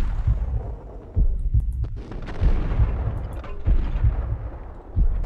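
Heavy low booms of grenade explosions mixed with repeated gunfire in the video game Max Payne, a series of loud thumping blasts roughly every second, layered over a continuous rumbling battle bed.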